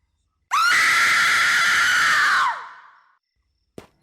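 A single loud, sustained scream rises sharply, holds for about two seconds, then trails off into a fading breathy tail, followed by a short faint sound near the end.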